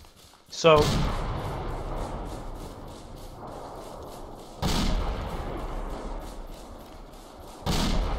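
Video-game mortar fire: three heavy booming thumps spaced several seconds apart, each followed by a long rumbling decay, with voices talking through the scene.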